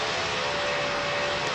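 Airplane engines roaring at full throttle on a runway, a steady, loud broadband jet roar with a faint constant tone, unbroken throughout.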